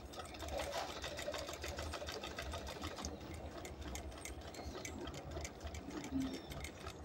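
A sewing machine stitches the back of a blouse with a rapid, continuous needle chatter that stays close and loud for the whole stretch.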